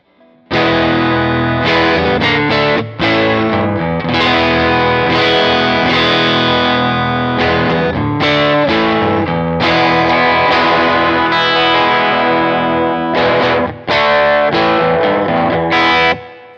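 A guitar fitted with thin, almost electric-style strings is strummed through distortion and chorus effects, giving a dense, full, continuous chordal sound with brief gaps between phrases.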